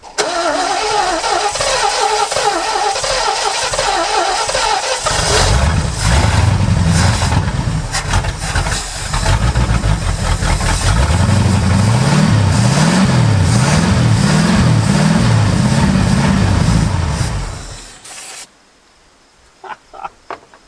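A Lincoln Continental's 460 V8, a barn find dormant for 35 years, cranks and fires, then settles into a rough rumbling idle and loud, repeated revving swells close up before cutting off abruptly, leaving near silence and a few faint clicks.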